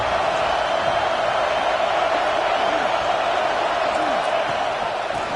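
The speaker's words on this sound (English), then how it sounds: "And the crowd coming to life here, trying to help this defense down in the red zone." A stadium crowd in the College Football 26 video game roars as the defense works in the red zone, a dense, even wash of noise that holds steady throughout.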